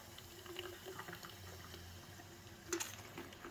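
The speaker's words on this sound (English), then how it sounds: "You can go ahead and fill it up with some hot water." Hot water runs into a Nalgene bottle holding lemon juice, a quiet steady trickle with a soft splash near the end, fairly faint and with no talking.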